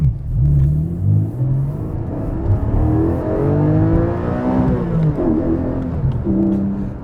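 Porsche 718 GTS 4.0 flat-six engine with a six-speed manual gearbox accelerating hard, a loud rising engine note climbing through the revs heard from inside the car, steady and close.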